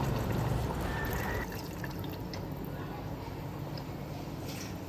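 Water is poured into a pot of green val (hyacinth) beans during cooking, a brief splashing pour at the start that fades into a quieter steady trickle.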